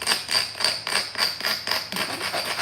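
Sharp stone-on-stone strikes ring out while flintknapping flakes off a stone blade, about eight close, crisp clicks in a steady, even rhythm with no talk.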